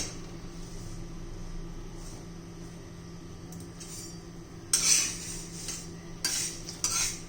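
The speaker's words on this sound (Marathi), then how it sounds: "मी मंद गॅसवर मस्त असे बघा कलर बदलेपर्यंत भाजून घेतलेले आहेत" Fenugreek seeds roast over a low flame in a pan, a quiet steady background crackle broken by several sharp metal-on-pan clinks and scrapes of stirring in the second half.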